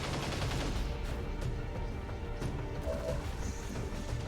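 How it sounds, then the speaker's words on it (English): Sustained, dense weapon fire from a big cannon in the XCOM 2 strategy game, a loud continuous rumble with rapid crackling reports and no speech. "we'll sabotage this guy with our big cannon"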